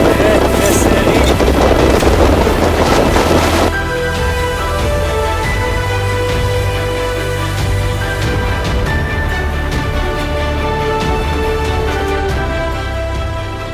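Strong wind buffets a sailboat beating upwind in about 22 knots, a loud continuous roar with heavy gusting early on, then steadier blowing under a droning tone.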